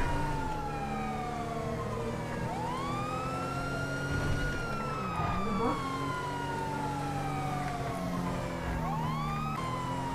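A police car siren in the GTA V video game wails in repeated rising and falling sweeps over a low engine rumble during a chase, at a moderate level.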